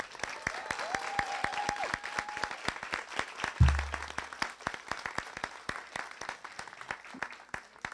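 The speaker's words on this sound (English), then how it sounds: "So how about we do one big, huge round of applause for all of our winners." Applause for the winners at a speech competition awards ceremony: a smallish group claps in a steady, evenly spaced rhythm, moderately quiet, with distinct individual claps audible throughout.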